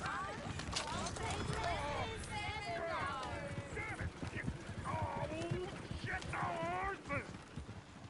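Horse hooves clip-clop steadily beside a stagecoach, mixed with a busy scene of overlapping voices, calls and occasional whinny-like sounds, loud and close throughout.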